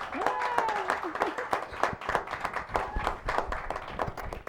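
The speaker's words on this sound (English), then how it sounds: "It's a round of applause for the Parks and Rec" A studio audience on a local talk show gives a round of applause, with brisk, uneven clapping from a modest crowd, fairly close and mixed with some voices.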